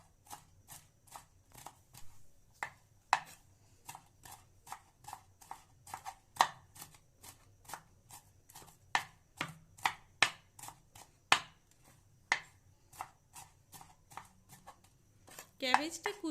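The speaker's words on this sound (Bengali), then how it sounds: "এইভাবেই সমস্ত ক্যাবেজটা আমি এখানে কুচি করে নিচ্ছি" A knife chopping cabbage finely on a board, many crisp, sharp taps in an uneven but steady rhythm, close and clear, while a person talks throughout.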